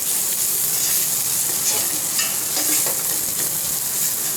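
Homemade biryani masala stirred in a hot pan for egg biryani, a dense, loud, continuous sizzle with faint scraping of a spoon underneath, close and steady, no voices.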